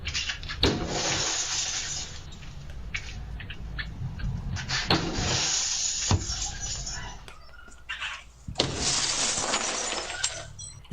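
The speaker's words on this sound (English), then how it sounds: "Smashing a total of 8 windows" Window glass being smashed, several panes in turn during a violent neighborhood confrontation, each strike a sharp, loud crash with broad shattering noise, spread over several seconds with rustling and movement in between.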